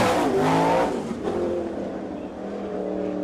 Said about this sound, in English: Next out on the clock, currently 7th in the All-Star points, the U2 car.